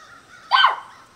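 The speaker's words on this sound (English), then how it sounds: "You hear all the birds going crazy too?" A single loud, harsh crow caw rings out briefly against a quiet background.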